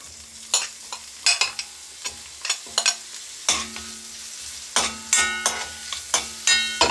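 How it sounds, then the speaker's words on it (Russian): Onions frying in sunflower oil in a pan, a steady close sizzle broken by repeated scraping and stirring knocks of a utensil throughout. "Обжариваем лук сначала."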